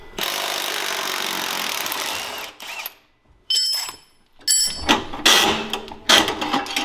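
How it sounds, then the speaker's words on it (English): A main wheel bolt on a Trail Master MB200 minibike is worked loose with a 19 socket and 17 wrench, giving loud, close bursts of ratcheting and metallic grinding broken by short pauses and clanks. "Now we can take out the main wheel bolt, which is a 19 socket, 17 wrench, 19 on the nut"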